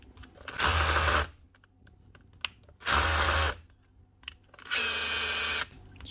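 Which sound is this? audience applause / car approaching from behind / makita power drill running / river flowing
makita power drill running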